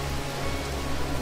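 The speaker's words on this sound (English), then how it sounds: "It's raining here." Steady, soft rain hiss falling in the No Man's Sky video game, a constant even wash of noise with no distinct drops or voices.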